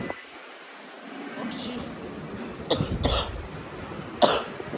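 A person coughs several times in short bursts, fairly close, with a dusty highway roadside ambience behind.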